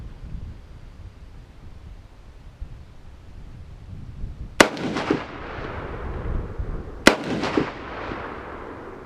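Two loud, sharp gunshots from an FN-49 battle rifle ring out at an outdoor range, several seconds apart, each with a booming echo that trails off over steady wind noise.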